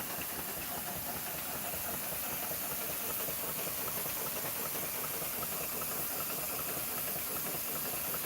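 A steam engine at Shannondale steam shed, being brought up into steam, gives off a continuous, steady hiss that stays even and moderately quiet throughout, with a faint low mechanical rumble beneath.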